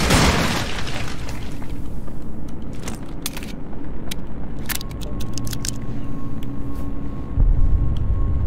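A grenade explosion in In Sound Mind opens with a loud booming blast that fades quickly, leaving a steady low rumbling drone of game ambience.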